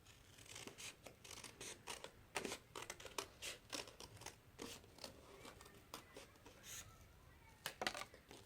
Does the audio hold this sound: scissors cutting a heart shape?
yes